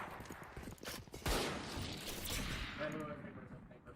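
Pistol gunshots in Valorant, a quick burst of sharp cracks with a strongest shot near the middle, heard under talk.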